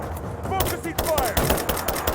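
Bursts of gunfire from the Tomb Raider video game rattle out in rapid clusters, loud and close, with a shouting voice cutting in between the shots.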